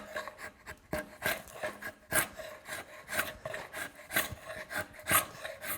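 Careful knife or drawknife strokes shave wood from a hickory self bow stave, a steady series of close, scraping rubs repeating about once or twice a second with no talking.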